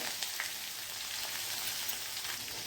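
Ginger, garlic, chilli and turmeric sauté in hot oil with mustard seeds and curry leaves for dal palak, giving a steady, even sizzle that stays close and constant with no voices over it.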